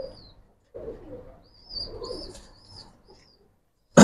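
Pair of pigeons, male and female, cooing in soft low murmuring bursts up close, with a faint high chirp in between and a sudden loud clatter at the very end.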